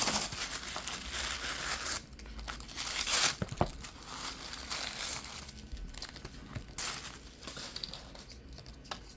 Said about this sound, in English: I don't like talking over or tearing the tissue, so we kind of squish it out.